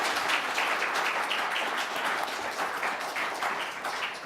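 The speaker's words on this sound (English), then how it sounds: "Never thought that would get an applause" Applause from a city council meeting audience after a motion carries, a steady wash of many hands clapping at moderate distance that holds evenly for several seconds with no talk over it.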